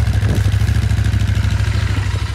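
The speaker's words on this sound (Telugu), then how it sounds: "మెల్లగా అలా బైక్ని తీసుకెళ్ళి అక్కడ చేయాలి" A motorcycle engine idles with a steady, loud low throb while the bike is moved slowly, with light clattering on top and no talk.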